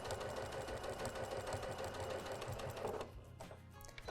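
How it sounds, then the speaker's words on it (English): A Janome sewing machine stitches a 1/4 inch seam at a rapid, even pace, its close, steady mechanical whir running for about three seconds before stopping. "now we're just going to sew a 1/4 inch"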